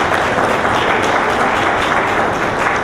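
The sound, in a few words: round of applause for Honorable Gail Teixeira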